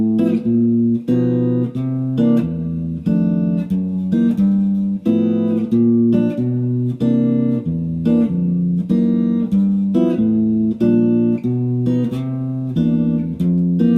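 Jazz guitar playing a walking bass line with chords struck in duplets at the same time, a steady rhythmic pulse of plucked bass notes and paired chord stabs, close and clear with no talking.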